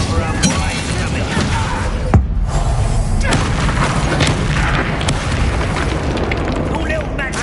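Dense, roaring fire-spell blast in the video game Hogwarts Legacy, a sharp crack then sustained loud rumbling and crackle throughout, with voices over it.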